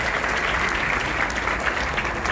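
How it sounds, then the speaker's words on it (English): A large crowd claps continuously in a roomy university auditorium at a dental college white coat ceremony, dense, even applause sustained throughout. "A huge applause to all the females in this auditorium and in this country."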